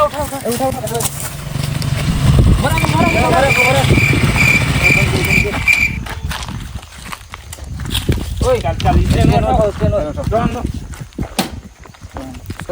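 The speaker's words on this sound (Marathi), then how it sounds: "मस्त रे गाडी एकदम KTM" A KTM motorcycle engine runs nearby, a rough mechanical hum under loud overlapping talk and outdoor bustle, stronger in the first half and fading back later.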